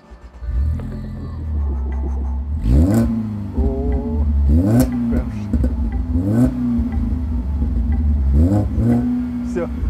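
A Ford Focus fitted with a loud aftermarket exhaust revs repeatedly, deep bassy blips rising and falling over a steady idle rumble, close and loud, with people talking over it.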